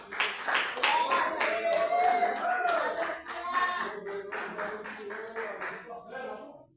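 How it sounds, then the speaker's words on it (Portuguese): A church congregation claps hands together in a brisk, steady rhythm, close and fairly loud, while voices sing or talk over the clapping as it gradually thins toward the end. "Vamos receber a serva de Deus com as palmas bem alegres."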